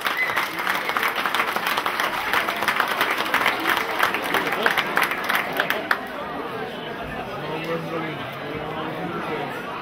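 A gathered crowd gives the ladies a lively round of applause for about six seconds. The clapping then dies away into murmuring chatter and babble from the room.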